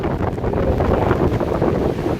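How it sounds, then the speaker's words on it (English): Strong windstorm wind blasting across the microphone, a loud, continuous low rumble and buffeting with surging gusts, near the shore with crashing waves mixed in. "The wind is really picking up big time."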